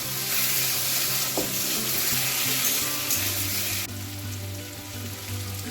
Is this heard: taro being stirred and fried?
yes